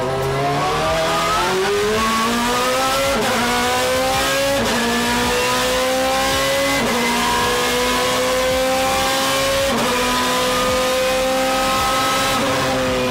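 BMW M3 GTR race car with a V8 engine and straight cut gears: loud, close engine revving that climbs repeatedly through the gears, each pull ending in a sharp shift before rising again, with a gear whine running throughout.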